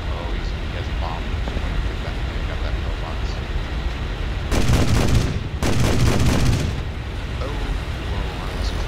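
Cannon and machine-gun bursts from a Yak-9T fighter in the War Thunder combat flight game, two loud sustained bursts roughly a second each amid continuous engine drone, with talk running throughout.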